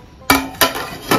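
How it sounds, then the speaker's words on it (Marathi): A metal lid goes onto a cooking pot of Goan peas pulav with three sharp clanks, one loud knock followed by two more spaced about half a second apart, close and clear with no talk. "ताका धाकण्या लायता."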